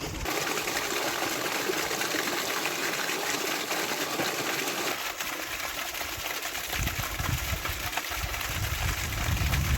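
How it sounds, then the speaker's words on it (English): A small waterfall trickles over drought-dried falls at Mexiquillo, Durango, Mexico, making a steady, continuous wash of water with no voices. "we have finally found a waterfall, if you can call it that"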